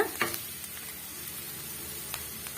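Fried soya chunks being added and stirred into a pan of sautéed onions for a ragi soya fry, a quiet continuous sizzle with a few spoon clicks near the start.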